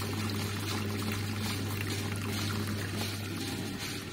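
Cooling water flows steadily through a reflux still's condenser during a first distilling run, a continuous loud rushing hiss with a low steady hum underneath, unbroken for the whole stretch.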